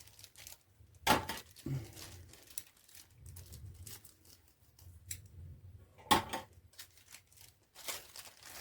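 Two sharp snipping cuts of scissors a few seconds apart, close and crisp, with quiet handling rustles between them.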